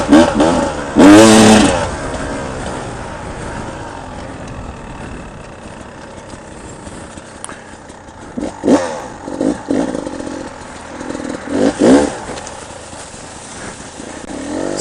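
A 2017 Beta 300RR two-stroke dirt bike ridden on trails, its engine lugging low and then rising in several loud revving bursts, close by.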